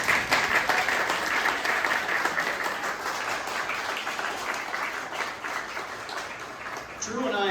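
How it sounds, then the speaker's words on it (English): Audience applause at a memorial celebration of life, steady dense clapping from a crowd filling the room, loud throughout and easing slightly toward the end, with voices murmuring underneath. "Yes, you may applaud."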